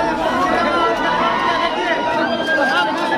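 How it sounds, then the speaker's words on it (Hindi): Packed cinema crowd at the first show of the film Suryavansham, a steady loud hubbub of many voices chattering and calling at once, with someone talking over the din. "भीड़ देखिए कितना भीड़ से भरा हुआ।"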